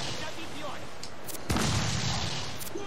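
Ship cannons firing during a naval battle in the video game Assassin's Creed IV Black Flag, with one sharp booming volley partway through over a constant roar of battle, as voices shout over the noise.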